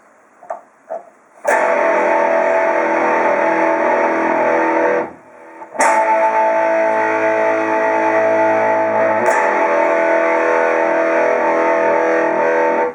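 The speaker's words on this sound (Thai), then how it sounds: "กีตาร์เวสเตอร์ในส่วนของพาร์ทเสียงแตกนะครับ" Electric guitar played through a Vester Japan vintage distortion pedal, a couple of quiet muted notes then sustained crunchy chords ringing out, a brief gap between them.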